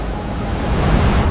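Ocean surf rushes close by in a loud, continuous wash, with wind buffeting the microphone, briefly and with no voices.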